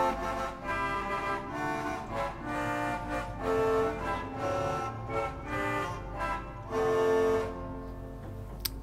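The narrow-sounding Dulcian reed stop of the Hinsz pipe organ in the Bovenkerk, Kampen, plays a buzzy, nasal melody of detached notes in a reverberant church, with a lingering echo after it stops.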